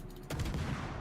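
Ship guns fire in the naval game World of Warships, a single booming salvo that bursts in partway through and rolls out in a low, rumbling tail.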